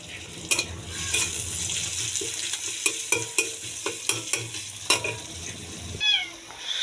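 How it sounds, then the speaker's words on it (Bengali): Greens frying with onion in oil in a pan, a steady sizzle under repeated clinks and scrapes of a spatula stirring, close and moderately loud. "এখন শাক ভাজির জন্য দিয়ে দেবো তেল,"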